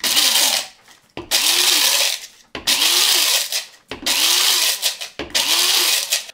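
Coffee beans crushed to a coarse grind in a hand grinder, heard as five loud, close bursts of gritty rasping grinding, each about a second long, separated by brief pauses.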